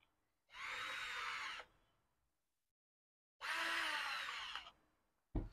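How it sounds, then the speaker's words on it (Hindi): A power drill drives screws into the gearbox of a kids' ride-on toy car in two sustained whirring bursts of about a second each, separated by silence, followed by a brief third start. "हम ज़्यादा टाइम नहीं लगे इसलिए ड्रिल यूज़ कर रहे हैं"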